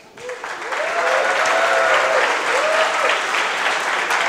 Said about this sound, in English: A round of applause for Yossi.